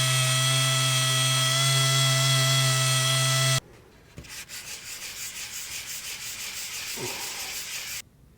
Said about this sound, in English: I'm going to switch over to hand sanding and just do any final touch-up by hand.